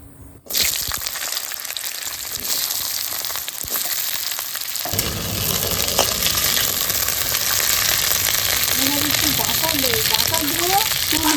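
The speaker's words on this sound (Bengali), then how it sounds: "তেলটা গরম হয়ে গেছে এখন কুন্দুলিটা আমি ভেজে নিচ্ছি" Ivy gourd (kunduli) frying in hot oil, a loud dense sizzle that bursts in suddenly and keeps roaring steadily, growing fuller midway, with a voice talking faintly beneath.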